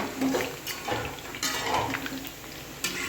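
Dishes, pots and cutlery being washed in a village home kitchen, metal clinking and scraping in quick irregular knocks with running water, close and fairly loud.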